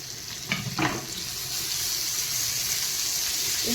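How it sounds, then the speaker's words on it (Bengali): Dried red chillies, cumin seeds and garlic hit hot oil with a couple of quick crackles, then settle into a steady, close broadband sizzle that carries on alone. "আর এই শুকনো লঙ্কা ফোড়ন দেব আর এই জিরে ফোড়ন দেব আর এই রসুনটা আমি এই ফোড়ন দিয়ে দিলাম"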